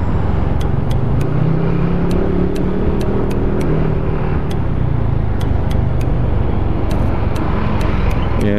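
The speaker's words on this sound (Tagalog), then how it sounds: "Yan, ganito ka traffic din dito" Congested road traffic with cars fills the air as a dense, steady low rumble of engines that stays loud and continuous throughout, with no talking.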